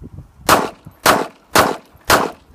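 Four sharp pistol shots are fired from a bellyband holster on a 7-yard qualification course, evenly spaced about half a second apart and loud against a quiet background.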